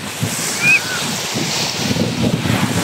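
Steady ocean surf washes and roars nearby at early evening, a continuous hiss of breaking waves with a brief high whistle early on, recorded on a Honor X9b 5G phone.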